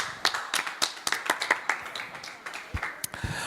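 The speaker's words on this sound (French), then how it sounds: "On applaudit Christophe, merci Chris." A small live-show audience at a season finale claps for a departing host in a loose, uneven scatter of distinct hand claps, fairly close, with no talk over it.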